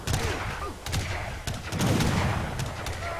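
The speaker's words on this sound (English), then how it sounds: "The cannon will do a good job here." Cannon and musket volleys crack repeatedly during an Age of Empires 3 battle, with sharp overlapping shots and booms rattling through a steady din of combat.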